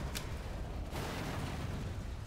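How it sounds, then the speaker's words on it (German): An explosion in the video game Black Mesa, a loud broadband blast with a sharp crack near the start and a renewed rumble a second in, sustained low boom throughout without speech. "Wie hart die Explosion davon ist."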